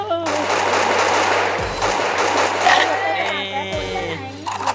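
Rapid automatic gunfire rattles in the battle royale video game Free Fire, loud bursts over game effects while players talk excitedly.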